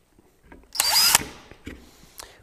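A power drill drives screws into pilot holes in wood. It gives one close, loud whirring burst of about half a second, followed by a few light knocks and clicks of handling.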